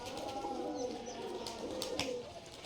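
Several Giribaz pigeons give low, throaty coos, a soft continuous murmur with a few faint chirps and wing sounds, fairly quiet and without speech.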